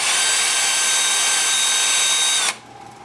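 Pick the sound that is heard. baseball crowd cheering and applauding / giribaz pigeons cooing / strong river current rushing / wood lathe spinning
wood lathe spinning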